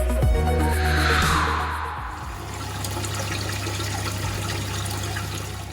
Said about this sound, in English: the water coming back into the sump is quite noisy